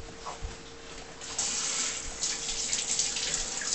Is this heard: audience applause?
no